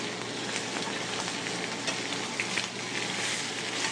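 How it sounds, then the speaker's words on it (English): Squab sears skin side down in a hot pan, giving a steady, close crackling sizzle with scattered sharper pops and no talking. "Now the squab is seared. Skin side down first."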